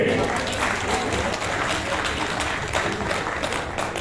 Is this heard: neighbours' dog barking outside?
no